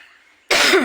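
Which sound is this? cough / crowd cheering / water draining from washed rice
cough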